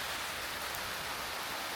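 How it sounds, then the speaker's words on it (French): Rain falls steadily in the jungle near a temple in Chiang Mai, Thailand. It makes a dense, even hiss of drops with no gaps and no other clear sounds. "il se met à pleuvoir"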